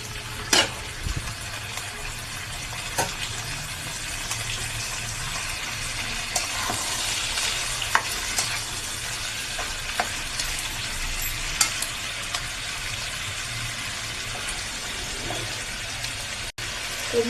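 Steady frying hiss follows as curry is poured into a hot pan for a Bengali fish dish with Malabar spinach and rice-flour paste, with scattered stirring clicks and scrapes under a constant close sizzle, no talking.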